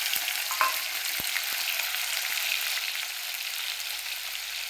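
Paneer sizzles in a hot pan with cumin seeds and turmeric, a steady close frying hiss that continues throughout, with a few faint clinks and stirring knocks near the start.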